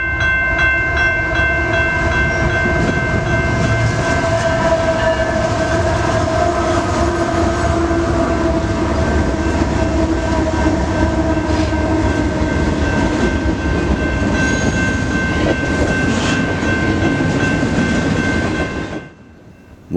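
An intermodal freight train rumbles loudly and continuously close by as it passes under a bridge in Galesburg, Illinois. Wheels clatter with a steady metallic whine, and the sound cuts off abruptly near the end.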